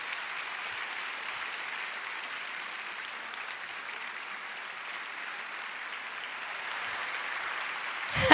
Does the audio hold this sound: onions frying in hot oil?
no